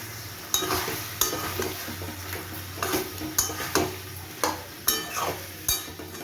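Chicken frying in a pan, a continuous sizzle punctuated by a regular series of metallic scrapes and clanks as a spoon stirs it, close and clear.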